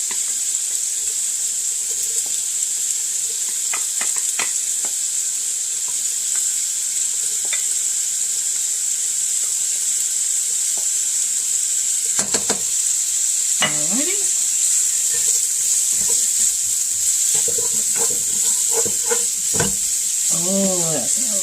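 Small cut-up pieces of bacon frying in a pan at home give a steady, bright sizzle that runs loud and unbroken throughout, close by, with a voice talking over it in the second half.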